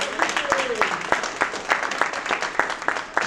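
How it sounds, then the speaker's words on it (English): Audience applause for Chef Igbo at a community meeting, a patter of claps running steadily for a few seconds with voices mixed in over the clapping. "Can we give a hand of applause for Chef Igbo?"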